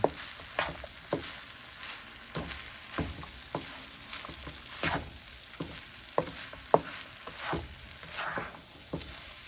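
Shrimp cooking with fried rice in a pan: steady sizzling and frying with repeated scraping and stirring strokes at an irregular rhythm, close and fairly quiet.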